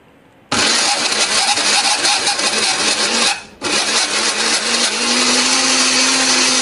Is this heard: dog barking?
no